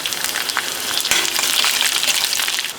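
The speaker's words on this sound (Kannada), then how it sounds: "ಈಗ ಇದಕ್ಕೆ ಒಂದು 10 ಬೆಳ್ಳುಳ್ಳಿ ಹೆಸರನ್ನ ಜಜ್ಜಿಬಿಟ್ಟು ಹಾಕ್ತಾ ಇದ್ದೀವಿ" Crushed garlic cloves sizzling in hot tempering oil with cumin and mustard seeds, a steady, close crackling fry with sputtering pops and no talk.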